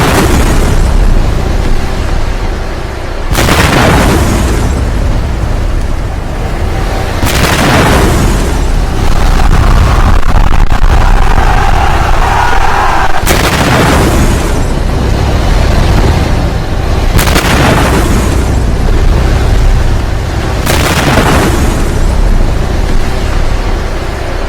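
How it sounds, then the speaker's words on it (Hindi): A series of heavy explosions in an AI-generated clip depicting Iran booms out one after another, roughly every few seconds, each blast loud and rumbling over a continuous low roar. "एक के बाद एक ईरान में सिलसिलेवार धमाके हुए कुछ इस तरह से"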